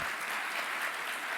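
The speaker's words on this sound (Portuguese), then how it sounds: "Uma salva de palmas," An audience at a panel session on access to diagnosis and treatment gives sustained, even applause, a dense wash of clapping heard from a short distance with no voices over it.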